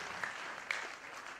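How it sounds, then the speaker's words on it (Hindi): Audience applause at a religious discourse for Krishna Janmashtami, a brief, steady wash of clapping heard from a distance at modest volume. "ताली बजा लो जोरदार तरीके से, ये अंतर समझते जाना।"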